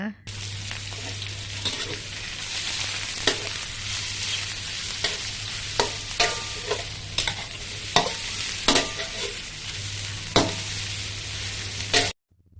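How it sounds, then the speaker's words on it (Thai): Onion, mushroom, baby corn and carrot stir-fried in a wok for glass noodles with egg, a continuous close sizzle broken by regular scraping stirs, with no talk. "เราก็ใส่ผักลงไปเลยค่ะ ก็จะมีหอมหัวใหญ่ มีเห็ด มีข้าวโพดอ่อน แล้วก็แครอทค่ะ ผัดคลุกเคล้าให้เข้ากันเลยนะคะ"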